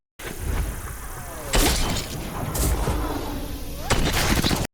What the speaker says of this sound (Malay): yang selebihnya melepaskan tembakan dan menjadikan rumah itu zon perang